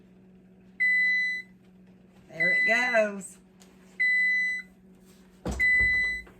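Three loud electronic oven-timer beeps sound in turn, spaced a couple of seconds apart, with a person speaking briefly between them.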